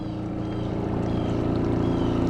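An off-grid washing machine set to drain runs with a steady low mechanical hum and rumble, continuous and fairly loud throughout.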